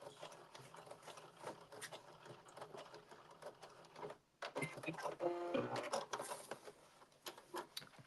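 A sewing machine stitches a KnowMe blazer with a continuous mechanical whir and rattle, pausing briefly midway before running again, faint and close with light handling noises.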